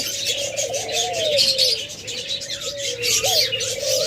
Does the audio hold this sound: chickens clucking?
no